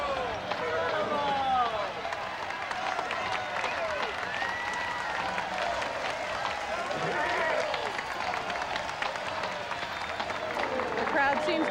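A crowd at a public event cheers and applauds for Geronimo, a steady roar of clapping and shouting voices that holds at an even level throughout.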